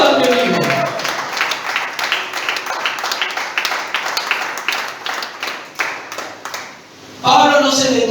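A church congregation claps together for several seconds, a dense crowd of hands with voices mixed in, fading briefly near the end before a preacher's voice returns.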